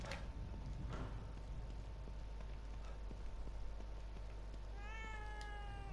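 In the video game The Evil Within 2, a cat meows near the end, a short rising cry heard clearly over a constant low ambient hum and occasional faint taps.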